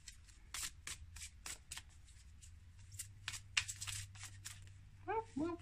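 Tarot cards are shuffled by hand in a rapid run of crisp riffling flutters close up, with a voice speaking briefly near the end.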